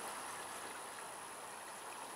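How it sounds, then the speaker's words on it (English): Small rapids in a creek rush steadily outdoors, a soft, continuous watery hiss heard from a short distance with no other sounds. "Then there's a nice small little rapids area over here."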